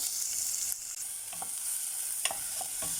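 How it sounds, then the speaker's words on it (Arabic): Grated onion sizzling and frying in corn oil in a pan, a loud continuous hiss with occasional stirring scrapes, close up and with no voices. "هشوح البصلة بتاعتي كويس قوي."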